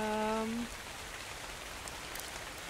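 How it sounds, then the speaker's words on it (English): Rain in the survival video game Dark and Light falls as a steady hiss after a short harmonic tone at the start, continuous and even in level. "It's raining."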